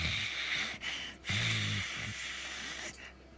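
A person imitates the raspy, hissing breath of an angry cat, a harsh sustained exhale broken by short pauses and a brief throaty snort, loud and close with no other sounds.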